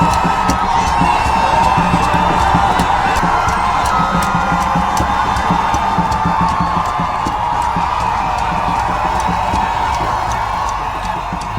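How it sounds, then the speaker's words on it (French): Dense crowd in Mvog Mbi cheering, shouting and whooping as the Pope's motorcade passes. A loud, continuous roar of many voices holds steady throughout, with sharp repeated clicks or whistles cutting through. "La foule explose, crie et pleurs se mêlent."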